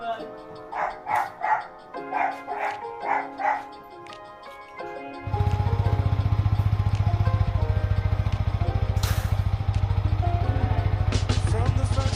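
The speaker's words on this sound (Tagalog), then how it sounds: "Lalabas ko muna yung motor ko." A motorcycle engine bursts into a loud, steady idle about five seconds in and runs on unchanged, after an opening stretch of short yipping, dog-like cries.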